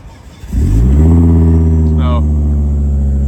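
A car engine fires up with a sharp crank and settles into a loud, steady rumbling idle close by, with a brief high turbo-like whine partway through.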